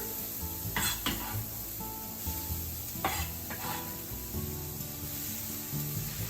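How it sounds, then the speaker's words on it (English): Vegetables including onion sizzle steadily in a hot frying pan without oil, with occasional scraping stirs and light clinks of a utensil. "So let's just put the vegetable in the frying pan."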